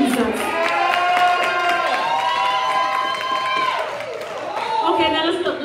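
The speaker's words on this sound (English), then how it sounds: "Clap your hands for Jesus." A church congregation claps and cheers during a service, with loud, sustained voices calling out over the crowd noise and a brief dip near the end.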